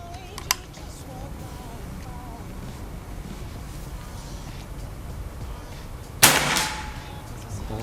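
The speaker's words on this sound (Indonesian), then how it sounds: "Ini tembakan yang kelima." A sharp, loud report rings out near the end, a single PCP air rifle shot with a brief trailing whoosh, following a quiet stretch with a faint click earlier.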